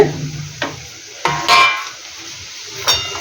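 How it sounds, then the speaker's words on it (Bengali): Potatoes frying in a home kitchen pan as they are stirred, with a few sharp scraping clatters of a utensil against the pan over a low sizzle, close by. "মা বললো আলুটা একটু নাড়তে আলু ভাজাটা দেখো"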